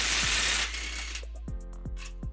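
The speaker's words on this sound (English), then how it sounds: "to remove those, we're going to be using a 19mm socket." A ratchet with a 19mm socket working on bumper bracket bolts of a 2015 Nissan Xterra gives a few quick metallic clicks close by, following a brief burst of hiss.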